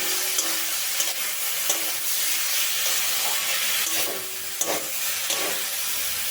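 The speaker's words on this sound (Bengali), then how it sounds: "এবার সমস্ত মশলার সাথে চালতাটা খুব ভালো করে কষিয়ে নেব।" Elephant apple stir-fried in a pan with salt, turmeric and chilli powder for chutney: a steady, loud sizzle and hiss, with occasional scraping stirs throughout.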